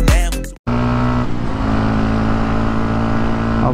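After a brief burst of music, a 2009 Yamaha WR 125 X, a 125cc single with 15 hp, runs with a loud, steady engine drone whose harmonic tones hold even without revving.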